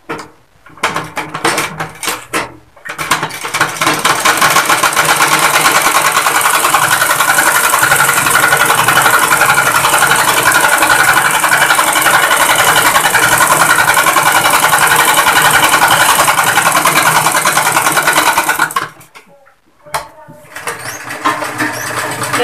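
A sewing machine stitches a ladies' suit at a tailoring shop, running loud and steady for about fifteen seconds after a few short starts, then stopping, with brief bursts resuming near the end.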